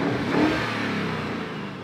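A Lamborghini Urus Performante revving hard at a race start, a brief loud engine surge that peaks early and then settles into a sustained drone.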